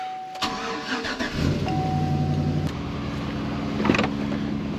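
A truck that has sat out for a couple of weeks in Wisconsin winter cranks repeatedly with a steady starter whir and a weak ticking, failing to catch, close and loud throughout.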